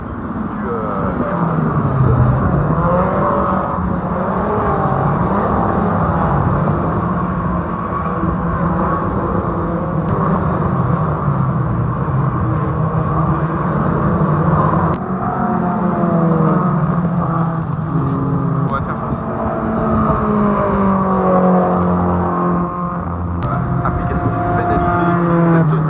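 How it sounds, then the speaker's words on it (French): Renault Twingo race cars on the last lap of a race, engines droning and shifting pitch as they pass, loud and continuous beneath a voice talking over them. "les voilà les Twingo dans le dernier tour de course"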